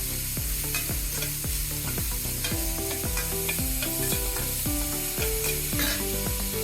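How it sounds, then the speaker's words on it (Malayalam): Onion masala with salt and turmeric, cooked for paniyaram, is stirred in a pan with a spoon: steady sizzling under a run of regular scraping strokes, close and fairly loud, with no voices. "നന്നായിട്ടൊന്ന് ഇളക്കാം."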